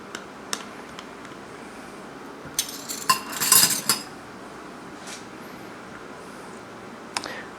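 A utensil clinks against a bowl while flan mixture with vanilla is gently mixed, sparse light taps with a short cluster of brighter clinks midway, close and quiet, no talking.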